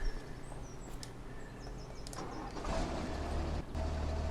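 A pickup truck engine turns over and starts in a farming simulation game, then settles into a low running rumble, with faint insect-like ambient chirps in the background.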